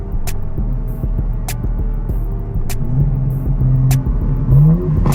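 A tuned 750hp BMW G82 accelerating hard, heard from inside the car, with a loud rising engine roar and sharp regular clicks or pops at each gear change.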